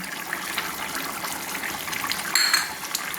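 Egg and pointed gourd curry stirred in a pot, a soft wet sloshing with faint scraping of a utensil against the metal, steady and close, with a brief louder clink toward the end.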